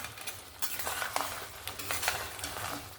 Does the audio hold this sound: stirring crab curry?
yes